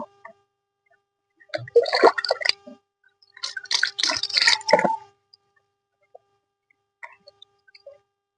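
Water pours and splashes off hair being rinsed after a hair-growth remedy, running dark; two wet bursts of splashing and dripping, each a second or two, with faint drips afterward.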